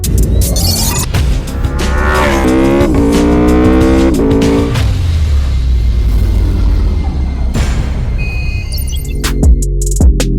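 An Aprilia motorcycle engine runs loud and close during a ride, revving up through rising pitch sweeps and shifting between gears, with a steady roar throughout and a few sharp clicks near the end.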